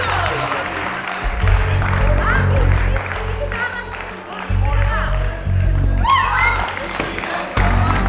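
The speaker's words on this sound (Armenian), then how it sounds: "Ծափարություններով։" Studio audience at an Armenian Minute To Win It game show applauding steadily, with some cheering and crowd noise over a rumbling low background, loud and continuous throughout.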